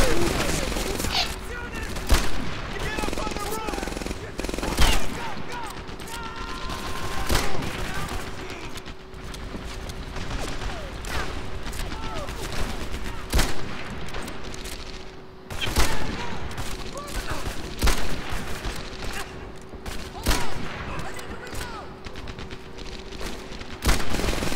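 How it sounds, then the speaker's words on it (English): Bursts of rapid MG42 machine-gun fire in the video game Medal of Honor: Airborne repeat over and over amid other gunshots and booms of a busy firefight. "Oh, that sounds like an MG42."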